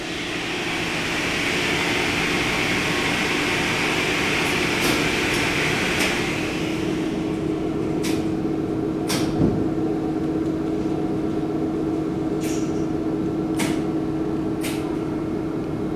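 A Dover hydraulic freight elevator machine drones steadily in a university building, a constant loud hum broken by several sharp relay clicks spaced a second or two apart, with no talking.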